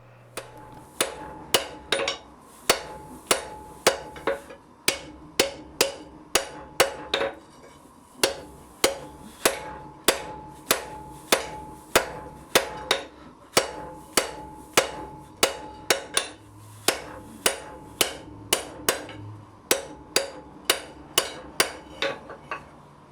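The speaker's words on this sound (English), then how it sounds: "Now I rotate the bar counterclockwise and I forge in the offset for the hinge area of the tongs." A blacksmith's hammer strikes hot bar stock, forging the hinge offset of a pair of tongs: sharp, ringing blows in steady bursts of rapid strikes with short pauses between, loud and close, with no talk.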